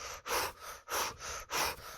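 Three strong, rhythmic breaths rush in and out in sync with sweeping arm movements during Kundalini yoga, each a loud, close airy gust separated by brief pauses.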